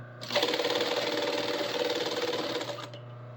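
A sewing machine runs long stitches in a steady, fast mechanical whir with rhythmic clatter, close and loud, starting and stopping cleanly.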